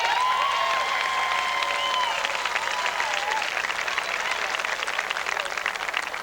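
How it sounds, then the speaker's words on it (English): A graduation audience at Ramapo College in 1998 gives a big round of applause, a dense, sustained wash of clapping with a few faint voices and cheers mixed in. "Let's give a big round of applause."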